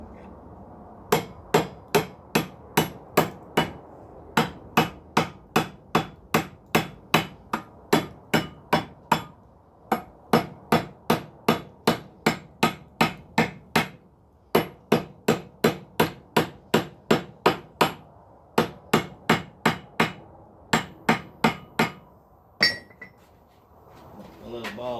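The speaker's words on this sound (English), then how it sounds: "hit them with a 3-pound hammer" A 3-pound hammer strikes steel pipe being forged into a Christmas ornament, ringing metallic blows coming in quick, regular runs with short pauses between them, loud and close.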